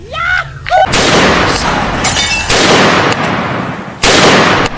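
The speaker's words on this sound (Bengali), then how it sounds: "ওদেরকে ফায়ার করে দে" Loud bursts of gunfire as a comedic sound effect, several sharp blasts and rattling volleys in quick succession following a brief tonal sound at the start.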